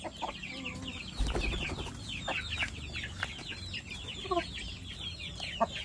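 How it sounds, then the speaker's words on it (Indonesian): Several chickens cluck and chatter in overlapping calls, fairly close, with a steady barnyard murmur beneath and a few sharper squawks. "Ayamnya ini loh, naik-naik sini nih, tengok nih"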